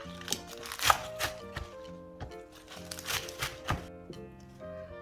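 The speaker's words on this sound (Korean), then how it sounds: "먹기 좋은 크기로 듬성듬성 몇 번 썰어줍니다" Fresh spinach being roughly chopped with a knife on a cutting board, a series of crisp, close, irregular chopping thuds spaced through the clip.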